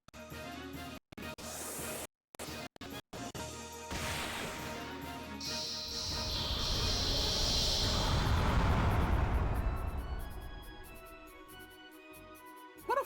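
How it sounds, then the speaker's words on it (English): A video game explosion in Wild Arms 3 builds from a few sharp clicks into a broad, roaring burst that swells and rumbles for several seconds before fading, loud against quiet background music. "What a fun explosion."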